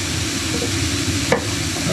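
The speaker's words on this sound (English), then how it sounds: "So I'm just frying these off with some onion, ginger, garlic, a bit of chilli in there and some cardamoms" Onion, ginger, garlic, chilli and cardamoms frying in a pan in a boat's galley, a steady close sizzle with stirring throughout and one brief sharper scrape near the end.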